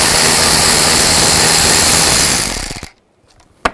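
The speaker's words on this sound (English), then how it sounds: "Use a 10mm socket, take these nuts out." A 10mm socket tool backs out the door-mirror nuts on a 2007-13 Chevy Silverado with a loud, close, continuous mechanical whirr that cuts off abruptly near three seconds, followed by a faint clack.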